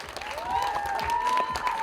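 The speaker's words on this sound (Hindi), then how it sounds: "जोरदार ताली होनी चाहिए डायरेक्टर अनुराग सिंह के लिए" Audience applause at a film teaser launch event for director Anurag Singh, a steady wash of clapping with some crowd noise and a sustained tone running through it.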